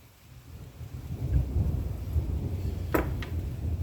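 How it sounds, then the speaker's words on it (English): Thunder from a passing thunderstorm rumbles low and steady, with a sharp crack near the middle, heard close and moderately loud with no one speaking. "Got a good little thunderstorm coming through."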